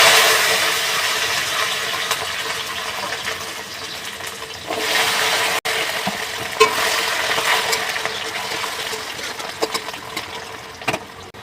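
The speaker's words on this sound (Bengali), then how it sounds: "আলু কচুরমুখগুলোকে একটু ভাজা করে নেবো" Potatoes and taro corms fry in hot oil after cumin tempering, a broad steady sizzle that fades slightly, then swells again, with scattered clicks and taps of a utensil against the pan, all without speech.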